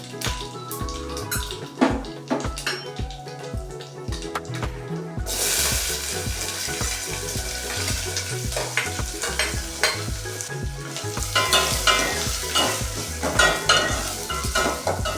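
Onions and curry leaves frying and being stirred in a pan for Punjabi dal tadka, a steady sizzle that grows louder partway through, with scraping stir strokes throughout.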